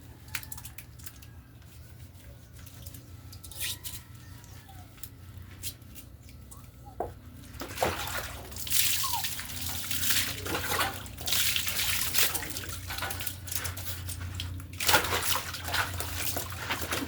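Water splashes and sloshes as a child named Gami is bathed, starting quietly over a low steady hum and growing into louder, continuous splashing with intermittent sharp bursts in the second half.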